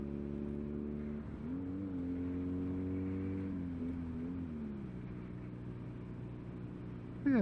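BMW R nineT motorcycle cruising at about 60 mph in fourth gear, a steady low engine drone with a slight rise and dip in pitch midway, heard from the rider's position with a brief thump at the end.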